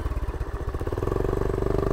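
A 1970 Honda CT70 Trail-70 motorcycle chugs along on a ride, its small engine giving a steady, close, rapid pulsing putter that firms up as it pulls.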